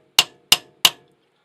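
Three sharp, evenly spaced hammer blows ring out close by, staking the edge of a drive axle lock nut into the axle keyway on a 1993 Honda Civic.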